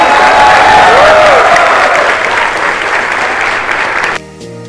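Loud, sustained applause from a large audience at IIT Bombay, a dense wash of clapping with some cheering that drops off sharply near the end.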